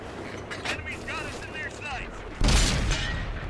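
A loud, close tank cannon shot booms in the World of Tanks battle over background game noise and a voice, with the blast's rumble holding on afterward.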